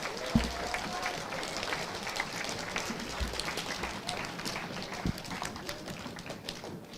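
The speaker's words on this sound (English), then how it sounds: "Please give a big round of applause to the 5th grade boys" An audience at a school Gemara-start celebration claps for the 5th grade boys, a busy, somewhat uneven patter of hands with a few thumps and knocks mixed in.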